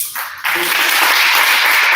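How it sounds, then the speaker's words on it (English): An audience applauds at a startup launch event at MSU, a dense, steady wash of many hands clapping that swells in after a brief quieter moment and stays loud to the end. "a huge amount of applause"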